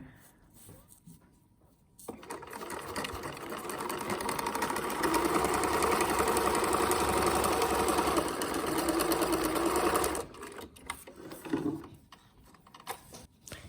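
A sewing machine stitches fabric for menstrual panties, a steady whirring run of about eight seconds that starts and stops abruptly, with quieter handling noises before and after.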